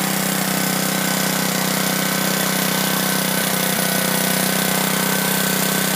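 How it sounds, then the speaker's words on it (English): A garden tiller's engine runs steadily and loudly close by in a vegetable garden, a continuous droning rumble with no break and no voices. "That is a garden tiller."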